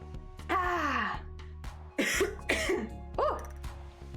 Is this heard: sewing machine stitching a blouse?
no